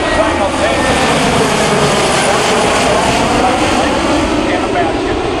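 A C-130 transport plane roars by at an air show, its propeller engines a loud, continuous drone that fills the whole stretch, with an announcer's voice mixed in.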